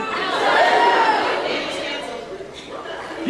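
A crowd boos and jeers in a sustained, loud wash of many voices that swells early and gradually fades.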